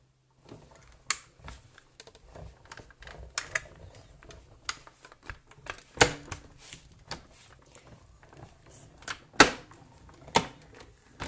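Paper is cut to make a label for a Stampin' Up! card, heard as scattered, sharp snips and clicks with quiet pauses between them, close up and with no voice.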